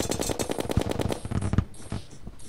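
An invisible pirate enemy in a Terraria pirate invasion fires rapid bursts of video-game gunfire, a quick rattling string of shots that trails off after about a second and a half.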